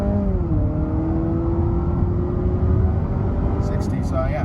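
A Honda CR-V TrailSport hybrid compact SUV accelerating at wide open throttle, with a steady engine drone rising slowly in pitch, heard from inside the cabin.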